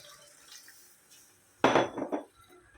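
Water poured into khichdi in a cooking pot, a short splashing burst of liquid hitting the grains after a quiet kitchen lull, with pot clatter and no talking.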